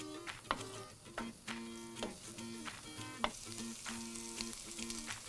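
Lamb and eggplant frying in a pan, a steady sizzle broken by rhythmic clicks and scrapes of stirring, with a soft tonal hum running underneath, close and without talk.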